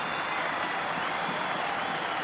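A stadium crowd applauds and cheers at a one-day international cricket match after Sri Lanka's win over the West Indies, with dense, steady clapping and roar that hold at one level throughout.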